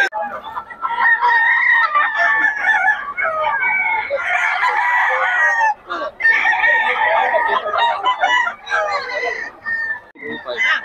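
Roosters crow repeatedly and chickens cluck at a roadside spot in Bocaue, loud and close, with crows overlapping in a busy chorus; people talk in the background.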